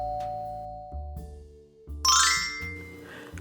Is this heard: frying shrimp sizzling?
no